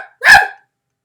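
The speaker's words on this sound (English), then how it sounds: "Claudette barked." A dog named Claudette gives a single short, sharp bark, close and loud, followed by silence.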